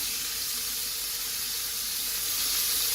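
Chopped onions sizzle in a pressure cooker for chicken biryani, a steady loud hissing fry that holds constant for the whole stretch with no voices.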